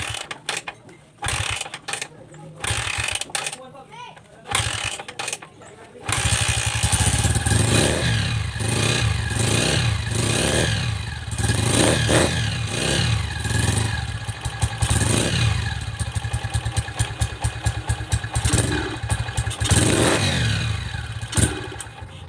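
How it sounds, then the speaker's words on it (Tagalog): A Honda TMX 125 motorcycle with a hard-starting condition and a stock carburetor is kicked over repeatedly, giving rough mechanical clatter, then the engine catches and runs with a steady, close idle and uneven revving, with no talk. "medyo hard start nga siya. Marami pang sipa ng kickstarter ang bago siya umandar."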